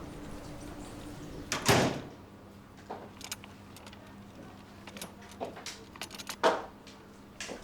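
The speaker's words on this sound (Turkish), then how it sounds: "Kapatır mısınız kapıyı?" A door is pushed shut in an indoor room, giving one loud close thump early on and then a few fainter knocks and clicks against a steady background hum.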